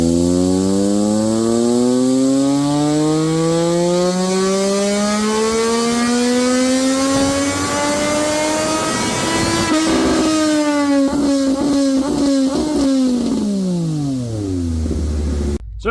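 A 765 Moto2 racing motorcycle engine on a dyno, loud and close, climbs steadily through a long rising rev sweep, then barks through a series of sharp throttle blips before dropping back toward idle.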